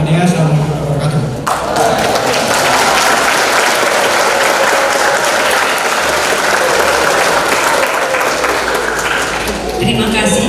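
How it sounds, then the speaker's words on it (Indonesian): An audience applauding after a public lecture in a hall, sustained dense clapping from many hands that starts abruptly and carries on loudly for several seconds before fading at the end. "Mohon tepuk tangan untuk beliau."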